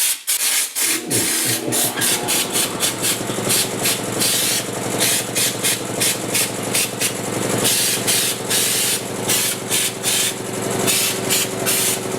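Epoxy primer sprayed over rust repairs on a 1939 Chevy two door, a steady close hissing spray with a constant compressor-like hum and rapid pulsing bursts throughout, no talk.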